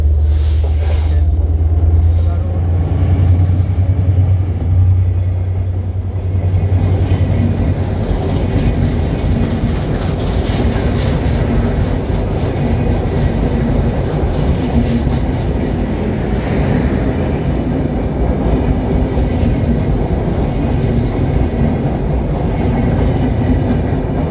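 At Jagati railway station in Bangladesh, the country's first station, opened in 1862, a train's deep rumble builds and fills the air with a continuous roar, mixed with gusty wind buffeting.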